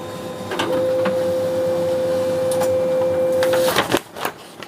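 A Konica Minolta bizhub 226 photocopier running off copies, a steady mechanical whir with a sustained tone and faint periodic clicks, ending in a few clunks as the cycle stops.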